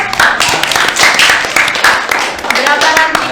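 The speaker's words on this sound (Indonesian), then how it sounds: "Tepuk tangan dong." Audience clapping at a Ramadan gathering of the IPNU-IPPNU district branch in Gurah, brisk, close hand claps layered with voices and cheering throughout.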